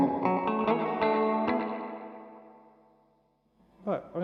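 A MoSky spring reverb pedal with both mix and dwell turned up to around three o'clock washes a loud, distorted guitar passage in splashy reverb that rings and slowly fades into near silence, before a few fresh notes return at the end.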